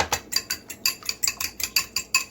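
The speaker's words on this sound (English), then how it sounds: "we're gonna beat the eggs" Eggs with a pinch of salt beaten briskly with a fork in a bowl: a quick, steady run of about a dozen light clinking taps, close and evenly spaced.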